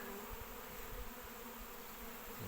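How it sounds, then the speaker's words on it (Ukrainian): Honey bee swarm settling low near the ground outdoors, a continuous dense buzzing hum of many bees at moderate distance, fairly quiet and steady with no voices. "Рій сформований."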